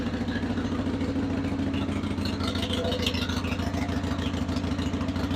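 A 2000 Harley-Davidson Sportster that had sat forgotten runs steadily, its loud engine rumbling close by in a continuous, even throb with no talking.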